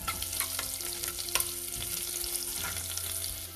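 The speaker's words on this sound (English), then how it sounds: "Next we will add garlic and saute this also for a little while." Garlic and ginger julienne sautéing in hot oil for a spicy urad dal curry, a steady close sizzle and crackle with faint stirring, no voices.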